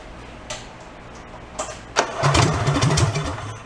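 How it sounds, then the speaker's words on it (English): An amusement park go-kart fitted with a big engine and no muffler cranks with a few pulls, then catches and runs loud and raw with a choppy, unmuffled putter, close by and without talk. "see what it sounds like with no muffler"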